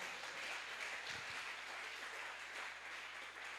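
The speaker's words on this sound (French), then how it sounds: "Est-ce qu'on peut acclamer le Seigneur?" A church congregation applauds in acclaim of the Lord, a dense, steady wash of many hands clapping together that sounds fairly distant and holds at an even level throughout.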